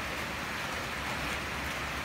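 Steady rain pours down in a dense, even hiss of drops striking surfaces, constant and fairly loud throughout with no voices, recorded in Bulung'ur District.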